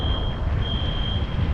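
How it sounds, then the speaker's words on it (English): A building's fire alarm rings outside during an early morning walk past a local market, a steady high electronic tone over loud street and traffic rumble. "Oh, fire alarm over here."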